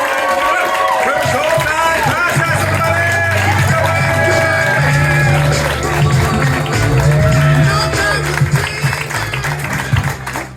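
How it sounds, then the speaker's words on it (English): A comedy club crowd claps and cheers for the headliner, with whoops and a steady wash of applause, while a voice speaks over the noise. "thank you for clapping"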